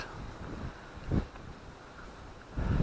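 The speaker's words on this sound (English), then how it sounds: "But it's a windy spot." Wind gusts buffet the microphone in low rumbling bursts over a steady outdoor hiss at a churchyard amid open fields in Hepworth, Suffolk, with no one speaking.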